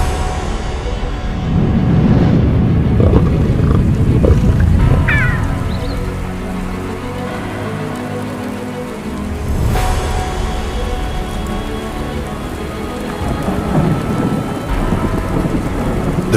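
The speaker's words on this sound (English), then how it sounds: "The rain falls heavy" Heavy rain pours steadily on the African savannah while deep thunder rumbles and cracks, swelling and fading several times.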